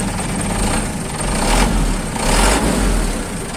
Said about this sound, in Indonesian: suara mesinnya garing banget